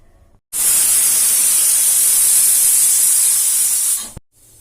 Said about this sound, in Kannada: ಕುಕ್ಕರ್ 1 ಸಿಟಿ ಆಯ್ತು.